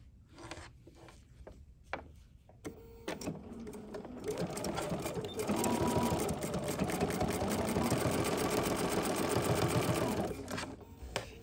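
A sewing machine stitches fabric in a patchwork sew, with a few scattered clicks at first, then a steady close whirring run of needle strokes for several seconds before stopping.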